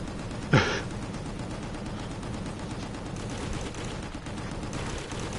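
One sharp gunshot from the video game Gungrave G.O.R.E rings out early, then gives way to a steady, dense wash of background game noise.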